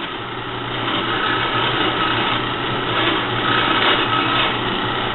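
A TURNPRO 7x12 band saw with a 4-speed belt drive runs just after being switched on, a steady mechanical whir and hum that holds constant with a slight swell, close up and without talk.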